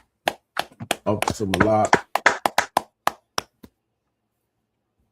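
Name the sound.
audience clapping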